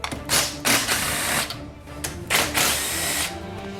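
Power drill spinning out transmission filter bolts on a Honda or Acura transmission during a teardown, several loud close whirring bursts separated by brief pauses, with no talking.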